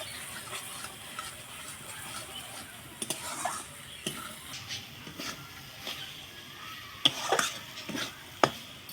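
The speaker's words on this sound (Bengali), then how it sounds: "ভালো করে কষে নিব মশলাটা" Ground spices fry in a pan for a goat-head and chana dal curry, a soft steady sizzle broken by repeated scraping strokes of a spatula and occasional sharper clinks against the pan.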